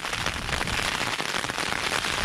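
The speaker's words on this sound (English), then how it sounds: "it's getting loud, the rain" Heavy rain drums on a small Lanshan 1 tent in the Simonside Hills of Northumberland, a dense, steady patter close overhead with no voices.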